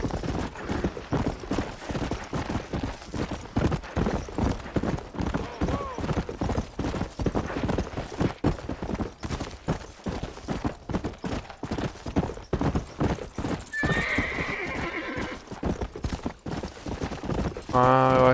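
Horse hooves clip-clop in a steady, rapid rhythm in the Red Dead Redemption video game, a continuous loud trot lasting throughout, with a brief burst of other game sounds near the end.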